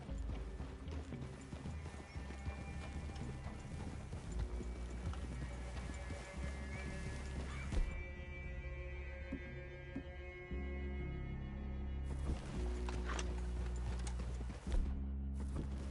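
Horses plod along in Red Dead Redemption 2, a steady clip-clop of hooves close by with an occasional whinny, set against a low ambient hum and game music.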